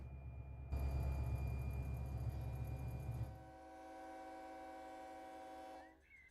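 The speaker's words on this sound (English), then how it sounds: "Hear a train coming." A train rumbles past in the Run 8 Train Simulator game, a loud low rumble with sustained horn-like tones that fades to a quieter steady hum before ending.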